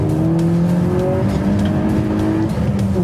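A 2014 Peugeot RCZ R with a 1.6 THP 270 hp turbocharged engine drones loudly and steadily from close by as it drives, its harmonic engine tone climbing and shifting as it pulls through the gears.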